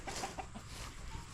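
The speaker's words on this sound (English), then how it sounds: "Chasing the chickens out of the flower bed" Chickens near a garden flower bed give a few short, soft clucks close by in a quick cluster, over quiet outdoor background.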